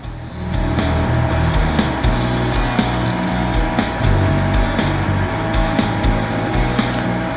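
A CNC positioning machine jogs along its X-axis toward a corner, giving a steady mechanical whir with a dense noisy hum and light repeated ticks, close and continuous with no talk.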